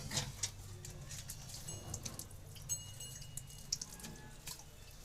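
Warm water splashes and drips while a cow's udder is washed before milking; the sound is faint and intermittent, with soft dribbles and trickles throughout and no talking.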